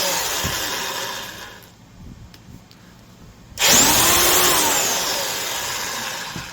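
A Vevor SDS-Max 10-joule rotary hammer with variable speed hammers at its lowest setting, loud and close, pausing briefly mid-run before resuming with a harsher, rising grind.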